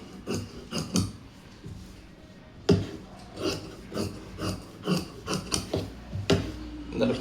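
Scissors cut through fabric for an unlined blouse, giving close, rhythmic crunching snips in repeated bursts with short pauses between strokes.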